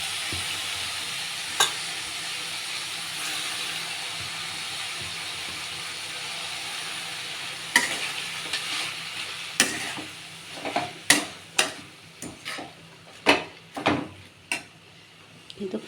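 Spinach fries in a pan with a steady soft sizzle, then a spoon stirs it in a quick run of scraping, clattering strokes against the pan during the second half, close and fairly loud.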